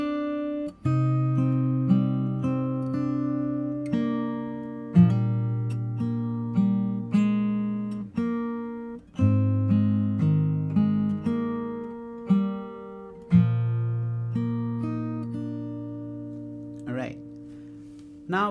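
Fingerstyle acoustic guitar playing the second part of a song's intro: plucked bass notes ring under picked melody notes in a slow, steady pattern, clear and close with no talking.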